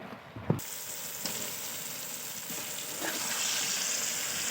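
Cooked meat tipped into a hot pan for a home-style spicy curry sets off a bright, hissing sizzle that swells and stays loud and steady, broken by a few soft scrapes of stirring.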